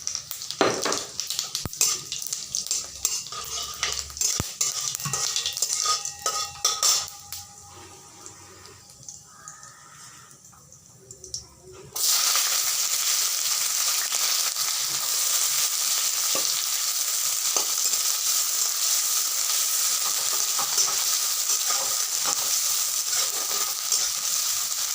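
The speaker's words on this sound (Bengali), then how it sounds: "তেলটা গরম হয়ে গেলে আমি শুকনো লঙ্কা আর জিরা ফোড়ন দিয়ে দিব।" Dried red chillies and cumin seeds crackle in hot oil for a dal tadka, a close steady sizzle that swells sharply partway through and then holds loud and even.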